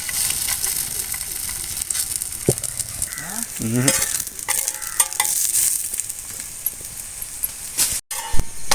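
Chapati cooking on a hot dosa pan (tawa), with a steady soft sizzle and scraping, stirring-like handling sounds running throughout, plus a few brief knocks.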